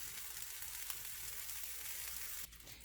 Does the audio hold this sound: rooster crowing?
no